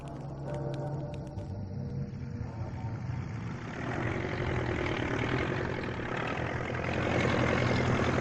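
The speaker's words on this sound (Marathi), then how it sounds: "रव्या ट्रॅक्टर आण." A tractor engine runs with a heavy, low, steady rumble that grows slightly louder over several seconds, close by with no talking.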